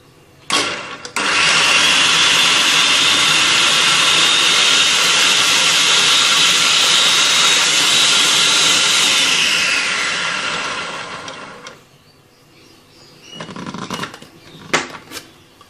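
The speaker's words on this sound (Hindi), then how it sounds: "2 सब्ज़ मिर्चें बारीक कटी हुई चॉपर में डालेंगे।" An electric chopper whirs loudly and steadily for about ten seconds, blades chopping green chilies, a small onion and fresh coriander, then winds down, followed by a few faint clicks and handling noises.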